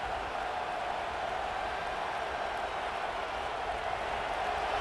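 At a Penn State football game against Virginia Tech, the stadium crowd keeps up a loud, steady roar that stays even from start to finish, with no clear voices standing out.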